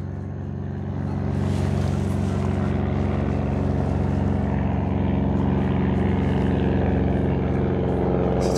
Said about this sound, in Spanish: Allá va una avioneta.